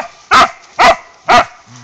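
A dog barks three times at an even pace, sharp and close, with a brief faint whine after the last bark.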